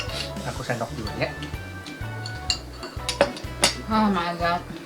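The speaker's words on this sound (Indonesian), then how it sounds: "Aku sendok dulu ya." A spoon scraping and clinking against a dish while scooping very spicy food, several light metallic taps and scrapes mixed in with ongoing talk.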